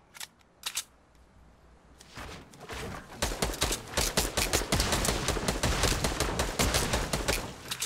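Rapid automatic gunfire in the battle royale video game Fortnite: a couple of sharp shots, a brief lull, then dense bursts of loud, close weapon fire continuing to the end.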